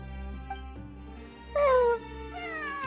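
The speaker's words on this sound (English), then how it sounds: "It really is a cat." A cat in the Genshin Impact video game meows, a short high plaintive cry rising and falling over a soft game music background, then a second fainter meow near the end.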